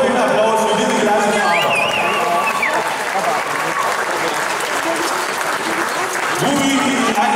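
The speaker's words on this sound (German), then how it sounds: "man hier nochmal einen tollen Applaus für diese Klasse" Audience applauding at a 2014 Nürnberg dog-breeding awards ceremony, a sustained dense wash of clapping throughout with voices and some crowd murmur mixed in.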